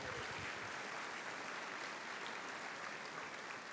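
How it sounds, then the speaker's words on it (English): Applause from a gala audience for board members, a dense, even wash of clapping that stays at a steady level throughout, fairly faint and distant. "let's just give them a round of applause,"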